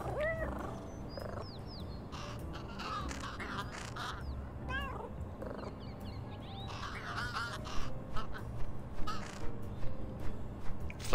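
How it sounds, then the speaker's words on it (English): A crow caws several times in rising and falling calls, mixed among other birdlike and cat-like sounds over steady background noise. "Find that crow."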